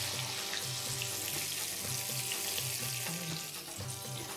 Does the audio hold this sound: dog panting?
no